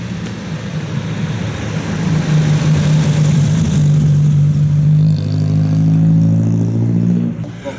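A car drives past on a road in Venezuela, its engine swelling loud and close as it passes, with a rising rev and rattling clatter and no voices.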